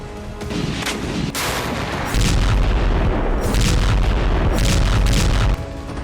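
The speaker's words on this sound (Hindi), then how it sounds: "बाख्मुत के बाहरी इलाकों में अब भी यूक्रेन की सेना आर्टिलरी से हमला कर रही है।" Artillery fire near Bakhmut, Ukraine, with loud, dense booms and sharp blasts rolling over one another, close and continuous, under a constant roar of noise.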